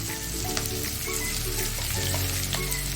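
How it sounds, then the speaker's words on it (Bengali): Chopped onions drop into hot oil for chicken Manchurian and sizzle steadily, a close, constant frying hiss with small crackles and faint utensil clinks over a low kitchen hum. "এবারে আমি এই তেলটার মধ্যে পেঁয়াজগুলোকে কুচি করে রেখেছিলাম, সেই পেঁয়াজ আমি এর মধ্যে দিয়ে দিলাম"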